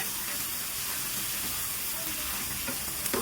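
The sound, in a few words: prawns and red amaranth greens stir-frying in a pan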